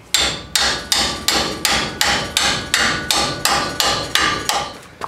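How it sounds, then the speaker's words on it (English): Repeated metal hammer strikes on an Allen wrench to loosen a Chevrolet C10 truck front brake fitting, about a dozen evenly spaced blows, loud and close, each ringing briefly before the next. "I like to start with the actual Allen wrench, and come in here with a hammer"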